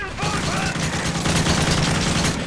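An AK-47 fires in Call of Duty: Modern Warfare 3 during the mission Persona Non Grata. The gunfire is loud, close and continuous, with rapid overlapping shots forming a dense, unbroken fusillade.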